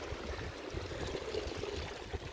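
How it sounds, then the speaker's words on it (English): A small mountain stream flows across a trail crossing at high altitude, a steady close burble and trickle of water running alone without voices. "that little stream crossing there is water feature number 9 of 50"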